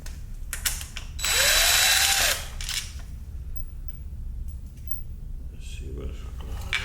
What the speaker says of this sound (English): I only use power tools just to take the bolts off, just to unloosen them.